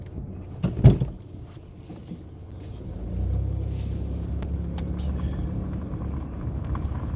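A car backing down a driveway in reverse, with a thump and click early on, then a low steady engine rumble building and holding close by, no speech.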